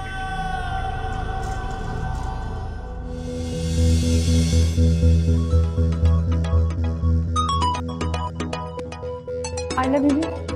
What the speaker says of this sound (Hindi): आयला बीबी, आपका फोन।